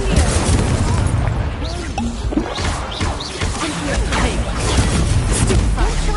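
Incendio fire spell blasting in a Harry Potter video game, heavy booms and crackling bursts amid continuous battle clamour, loud and up front, with a player's voice speaking over it.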